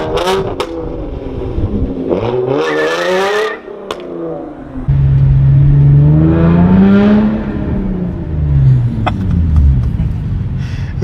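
A modified 3.8 V6 Hyundai Genesis Coupe R-Spec with a straight-pipe exhaust revs loudly and close, climbing and falling through several rises, then accelerating into a sustained deep roar with shifting pitch.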